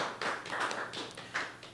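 Applause for performers at a reader's theatre evening: a small audience claps in a dense, uneven patter for under two seconds, moderately loud in an indoor room.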